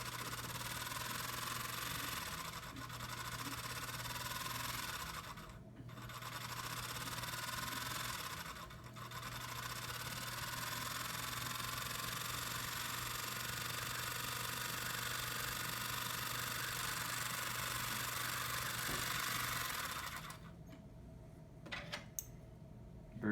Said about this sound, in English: And now engage the bobbin winder with this little knob here.